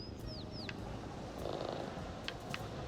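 A cat purrs steadily while nuzzling a human in the video game Little Kitty, Big City, a soft continuous rumble with a few brief bird chirps above it.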